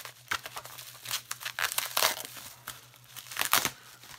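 A package holding Rockstar energy drink cans being torn open, irregular crinkling and ripping bursts close up, fairly quiet, with a faint steady hum underneath.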